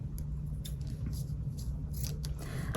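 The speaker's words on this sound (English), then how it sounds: "Let's go ahead and cut off our straws up here." Scissors snip through plastic drinking straws used for straw weaving, several quick close cuts spaced irregularly over a low steady background hum.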